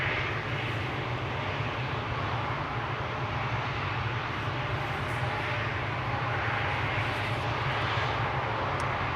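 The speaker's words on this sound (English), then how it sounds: "This is KLM Flight 1337 to Wrocław, an Embraer 190" A KLM Embraer 190 airliner at Schiphol Airport gives off a steady, distant engine roar and low hum that holds evenly throughout, with no speech.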